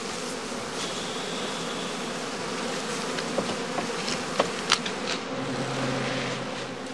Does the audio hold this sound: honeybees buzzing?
yes